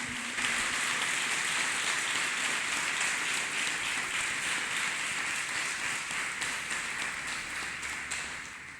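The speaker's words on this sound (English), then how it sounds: "Let us clap hands for Jesus, people of God." A church congregation claps hands together in steady, continuous applause that fills the room, fairly loud throughout and easing slightly toward the end, with no talking over it.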